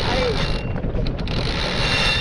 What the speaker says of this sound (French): on va pouvoir en fait dérouler le génois et enfin couper le moteur